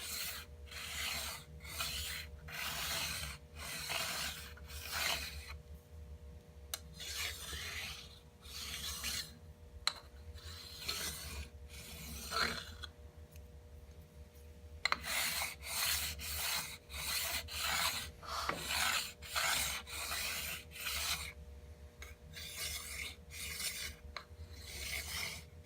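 A file is worked back and forth along the metal edge of a combination square to deburr it, making repeated rasping strokes in bursts with short pauses between.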